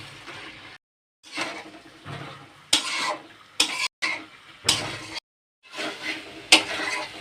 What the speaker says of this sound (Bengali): ঢেঁড়স দিয়েও আমি কিছুক্ষণ কষিয়ে নেব ভালোভাবে